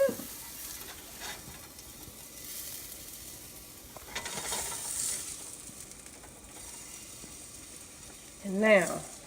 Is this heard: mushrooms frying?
yes